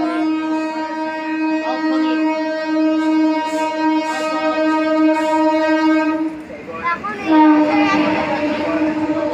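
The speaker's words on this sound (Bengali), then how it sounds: "এখন এই পাশে একটা এক্সপ্রেস ট্রেন ঢুকলো, দেখতেই পাচ্ছ" An express train pulls into Panskura Junction station, sounding a long, loud sustained horn for several seconds before it gives way to nearby rumbling and clatter.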